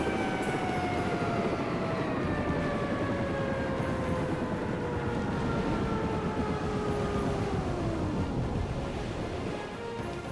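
Helicopter rotors shutting down in a flight video game, a steady broad rushing roar with tones that slowly slide downward as the rotors wind down, continuous and close.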